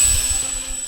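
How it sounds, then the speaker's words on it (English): A Skynetic Sbach 342 RC airplane runs with a steady electric motor and propeller whine, a constant high tone over a low rumble, fairly loud and close throughout the short moment. "It's a super fun RC airplane, so let's just see what this Skynetic Sbach can do then."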